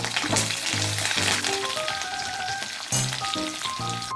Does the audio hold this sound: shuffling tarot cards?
no